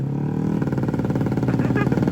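A Honda Vario scooter engine at a drag race in Aceh buzzes loud and close, its rasping note climbing in pitch as it revs up with a pulsing rhythm.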